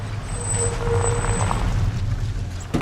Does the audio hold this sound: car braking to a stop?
yes